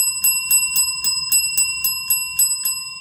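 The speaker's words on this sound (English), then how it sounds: "here's a Canadian National reciprocating bell" Rapid, evenly spaced strikes of a scale-model Canadian National reciprocating locomotive bell sound, about eleven bright clangs in quick succession, close and loud with no voices.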